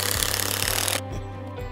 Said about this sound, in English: Hold your Ezy Anchor by the hook and approximately parallel to the ground and drill in at full